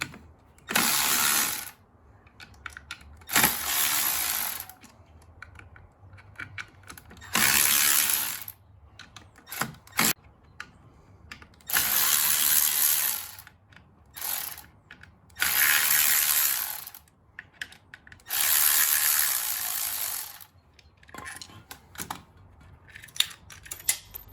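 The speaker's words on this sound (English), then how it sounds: "So these have to be loosened gradually, just a little bit at a time." Ratchet wrench loosening the clutch cover bolts on a Honda Shadow 750 motorcycle, a close, loud clicking that comes in repeated bursts of a second or two, separated by short pauses.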